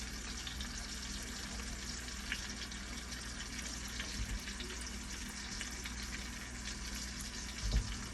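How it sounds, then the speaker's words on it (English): Pieces of chicken fry steadily in a pan, a continuous soft sizzle and crackle at low volume with a couple of faint clunks, and no talking. "we're going to let those cook for a little bit, get the outside kind of crispy"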